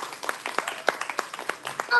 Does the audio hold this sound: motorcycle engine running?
no